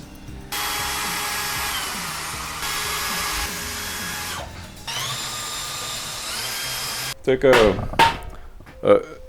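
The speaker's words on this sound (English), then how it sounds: "So we'll drill it." A power drill whirs in several long sustained bursts while drilling a bolt hole for a dashboard mount, pausing briefly between them, followed by a few sharp clanks at the end.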